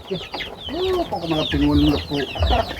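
Chickens on a poultry farm raised on maggot feed cluck and squawk close by in a busy, overlapping chorus that goes on without a break.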